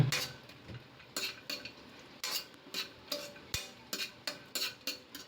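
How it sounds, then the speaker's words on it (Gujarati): Cashews roasting in hot ghee in a pan over a low flame, with a spoon scraping and stirring in a steady rhythm of repeated strokes over a faint sizzle. "આ કાજુને આપણે ઘીમાં બરાબર રોસ્ટ કરીશું"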